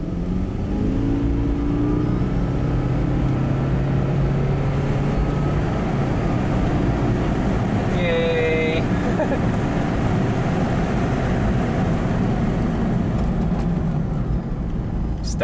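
A Toyota Prius hybrid car driving after brake repairs, with a steady low road and engine rumble throughout and a brief higher whine partway through, heard close.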